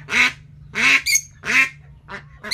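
Ducks (itik) quacking in loud, harsh bursts, four or five calls spaced about half a second apart, close by, with a steady low hum underneath and no talking.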